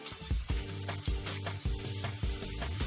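Eggplant slices fry in olive oil in a skillet, a steady close sizzle broken by regular thumping clatters roughly every half second as pieces are handled; no voices.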